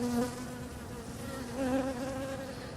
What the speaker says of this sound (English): So here you see that the bees have figured out how to eat from the hummingbird feeders.